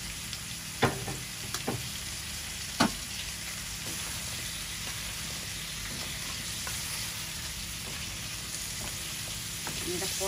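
Fish fries in a pan on a home kitchen stove, a steady soft sizzle running throughout with a few faint clinks of a utensil.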